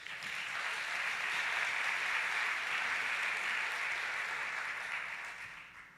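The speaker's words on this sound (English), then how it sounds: "Let's give them a round of applause." Audience applause fills a church-service gathering, a steady wash of many hands clapping at moderate distance that holds evenly for several seconds before tapering at the end, with no talking over it.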